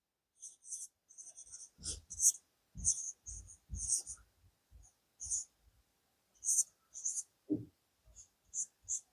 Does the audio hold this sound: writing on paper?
yes